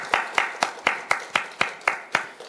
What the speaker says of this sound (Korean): 감사와 영광의 박수를 올려드리겠습니다